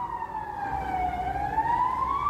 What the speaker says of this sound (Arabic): نسمع بوضوح صفارات سيارات الإسعاف